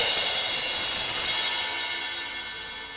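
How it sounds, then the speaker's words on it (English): A badly designed audio compressor leaves a long, bright ringing tail that hangs on and slowly fades over a few seconds, a harsh metallic wash with no voices over it. "you kind of like get this really long tail end of just like a weird like ringing sound"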